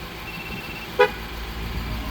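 A single short Ford F-250/F-350 truck horn beep, confirming a tire pressure sensor during programming, sounds once over steady outdoor background noise.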